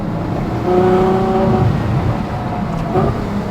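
A Ferrari F12 grand tourer's V12 engine revs hard and close, its steady harmonic roar swelling and falling over a few seconds with no talking.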